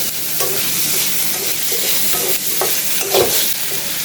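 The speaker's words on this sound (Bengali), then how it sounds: "তারপর শুকনা মরিচ এখন একটু ভাজবো।" Dried red chilies fry in pure mustard oil with garlic and onion, giving a steady close sizzle broken by a few scraping stirs of a spoon in the pan.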